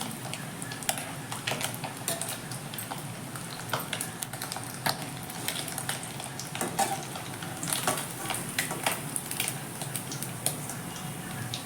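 Small anchovies (nethili) frying crisp in hot oil in a home kitchen, with a continuous close sizzle and scattered clinks and scrapes of stirring throughout.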